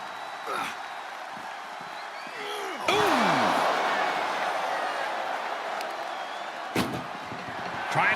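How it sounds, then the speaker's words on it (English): An ambulance door slams shut in WWE 2K25 during a Roman Reigns versus Brock Lesnar ambulance match: one loud, sharp bang and a second later knock over a constant roaring arena crowd, with commentary talking throughout. "Trying to at least slam one door shut."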